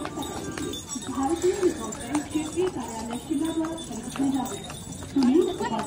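A horse carrying a rider walks the Ridge in Shimla, its hooves striking in a steady, close clip-clop rhythm beneath nearly continuous talking.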